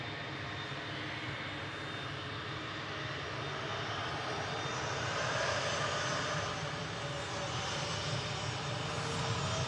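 Lufthansa Airbus A340, flight 438 from Frankfurt to Dallas, flying over near Manchester Airport: a soft, distant and steady jet engine drone that builds a little midway, heard alone without speech.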